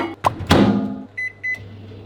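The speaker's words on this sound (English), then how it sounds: "so I'll go in the house and use our other microwave" Microwave oven melting chocolate, with a couple of clunks and a door thud, a steady hum, then two short electronic beeps.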